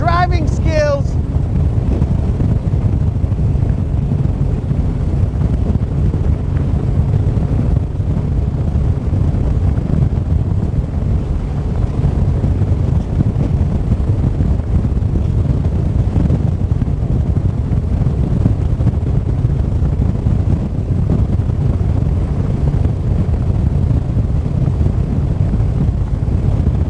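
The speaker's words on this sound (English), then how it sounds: "Thank the good Lord that the wind is going exactly in the direction that we need to be heading." Steady broadband wind roar buffets the microphone on a boat out on Lake Guntersville, loud and constant throughout with a low rumbling undertone and no break.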